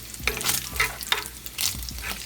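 Bacon frying in a well-seasoned cast iron skillet, a steady close sizzle and crackle with repeated stirring or scraping bursts over about two seconds, no voices.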